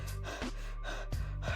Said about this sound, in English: That kind of deep breathing.